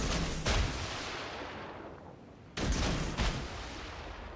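Naval guns fire in a warship video game, two heavy booming salvos about two seconds apart, each a loud blast with a second thump close behind, followed by a long rolling decay, with no talk.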